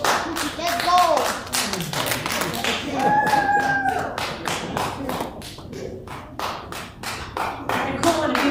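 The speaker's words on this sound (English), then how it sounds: "Pretty cool when a Bima officer gets applause" Scattered clapping from a congregation at a Chanukah Shabbat service acknowledges the Bima officer, uneven sharp claps with a singing or speaking voice threading through.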